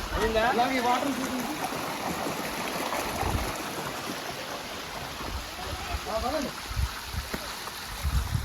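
A natural stream carries water to village farmland, rushing steadily and continuously at moderate loudness while someone talks over it.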